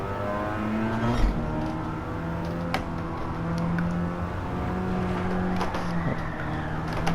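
The engine of a Mazda RX-7 FC in the Gran Turismo 7 video game holds a steady high rev while cornering on throttle, with pitch wavering as the car slides, and brief tire and contact clicks over it.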